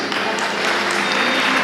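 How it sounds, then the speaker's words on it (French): An audience applauds at a School of Ministry graduation ceremony in Haiti, a dense, continuous wash of clapping that holds steady and swells slightly at the end. "Sous vos applaudissements"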